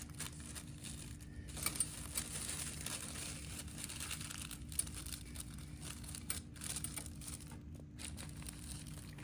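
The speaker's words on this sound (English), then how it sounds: "I'm gonna put a piece of tissue paper to act as stabilizer behind the batiste." Tissue paper placed behind batiste fabric as a sewing stabilizer gives soft, irregular crinkles and rustles, quiet and close, over a low steady machine hum.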